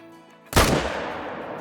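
A single sharp M1 rifle shot in the hunting game Call of the Wild, loud and close, cracking suddenly after a quiet moment and trailing off in a long echoing decay.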